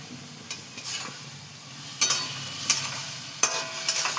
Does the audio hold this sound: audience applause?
no